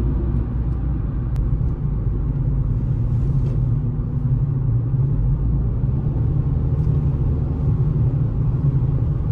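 A Hyundai i20 with a 1.4 MPI engine takes a curve, heard from inside as a steady low engine hum and road rumble, even and unbroken with no talking.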